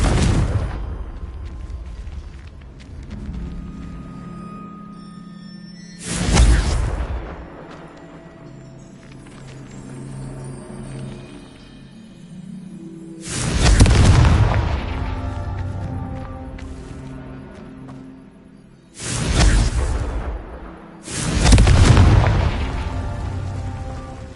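Several Confringo spell explosions in the video game Hogwarts Legacy, four loud booming blasts spaced a few seconds apart, each with a broad rumbling decay, set against a low game soundscape with no talk.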